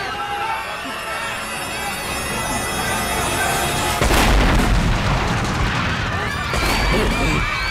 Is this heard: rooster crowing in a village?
no